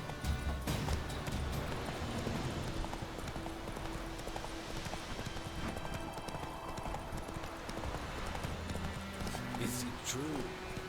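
Hooves of Geralt's horse Roach galloping in The Witcher, a steady, close clip-clop rhythm running throughout, with voices speaking over it.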